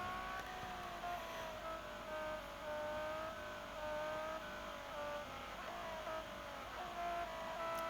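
Ferrari 599 GTO racing in a video game, its engine droning steadily with rising and falling revs and faint tire squeal, continuous and close throughout.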